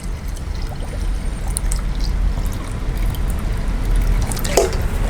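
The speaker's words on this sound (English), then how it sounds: "I'm gonna add water to 700 ml." Water pours steadily into a vessel up to the 700 ml mark while making ginger beer, a continuous splashing trickle with a few drips, close and fairly loud, with no talking.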